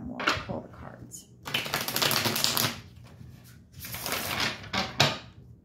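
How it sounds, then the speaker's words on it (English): Tarot deck being shuffled and cards pulled, several bursts of quick riffling and flicking card sounds separated by short pauses, close and fairly soft. "So let's get one more to go, and then we'll pull the cards."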